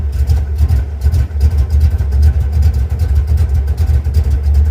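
Car engine fitted with an Edelbrock 1405 carburetor idling in cold weather after starting, a loud low rumble with uneven pulsing surges and slight revving, close by.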